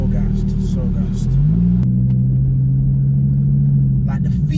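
Audi R8 V10 Plus fitted with an active Quicksilver titanium and stainless exhaust, a loud steady engine drone that rises in pitch partway through and then holds a sustained rev, close by with a person speaking over it.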